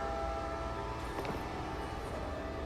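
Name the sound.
train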